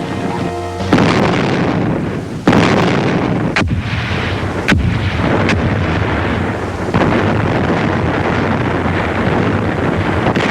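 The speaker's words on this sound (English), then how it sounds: "Our guns have the city under heavy shelling." Heavy WWII artillery shelling of Berlin, a steady loud roar of distant gunfire with several sharp blasts standing out against continuous wind-like rumble, no voices.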